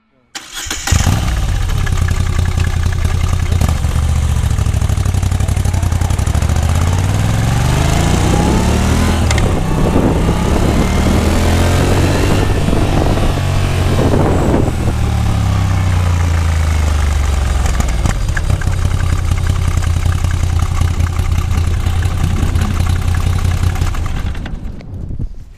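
A Moto Guzzi V85 TT adventure motorcycle, introduced in 2019 and under 850 cc, runs close by, its engine starting and then idling and revving with rising and falling tones before settling, loud throughout.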